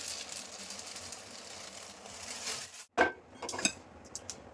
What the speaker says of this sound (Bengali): গোলমরিচটা না একটু শুকনো খোলায় ভেজে নিই